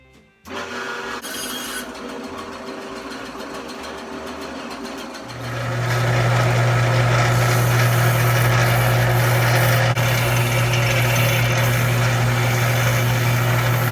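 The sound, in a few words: cutting a piece of wood to final length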